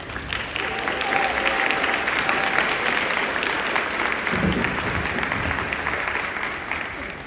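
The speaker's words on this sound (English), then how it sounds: "everyone please give a big round of applause for Mr. Clark from Colonial School" An audience at a band festival gives a teacher from Colonial School a sustained round of applause, dense and steady from start to finish, with a brief faint tone and scattered voices mixed in.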